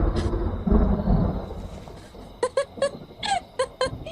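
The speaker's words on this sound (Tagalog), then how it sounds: "Ganyan yung kulog nun." Low thunder rumbles through the first half amid rain on a highway, then a series of short squeaky chirps punctuates the quieter second half, fairly faint overall.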